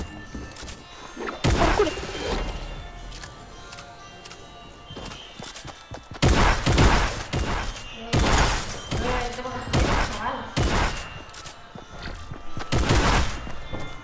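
Gunfire in a video game's creative mode, loud bursts of shots and impacts in several clusters separated by quieter stretches, with a person talking now and then between them.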